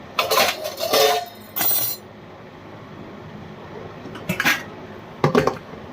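Dishes and utensils clatter in bursts as they are washed and stacked in a busy home kitchen, with sharp clinks and scrapes separated by quieter pauses and a couple of loud knocks near the end.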